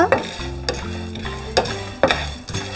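Dry spices, including fennel seeds, rattle and scrape in a hot pan as they are dry-roasted and stirred for tea masala, with a few sharp clatters from the spoon.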